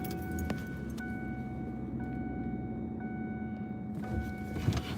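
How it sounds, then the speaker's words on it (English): A bunch of keys jangles close by in a parked car on a mountain trail search, a faint steady metallic rattle over a low engine hum with regular electronic chimes. "Oh shoot, my keys."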